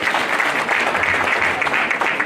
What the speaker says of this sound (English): Can we clap for the board members?